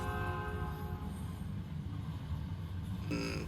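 A train in American Truck Simulator rumbles steadily in the distance beneath a continuous engine drone, and a brief horn-like tonal burst sounds near the end.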